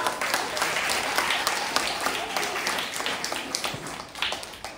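Audience applause at a computer room inauguration ceremony: a steady, dense wash of many hands clapping that holds for several seconds, with a few louder swells near the end.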